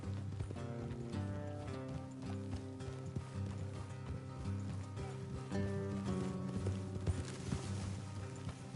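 Rhythmic hoofbeats of horses galloping steadily in Red Dead Redemption 2, fairly faint, with a droning musical background underneath.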